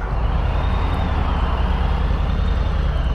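A truck in roadside traffic, heard as a steady, broad engine and road rumble with wind noise, continuous and fairly loud with no distinct events or speech, as if passing close to a 2020 Harley-Davidson Low Rider S.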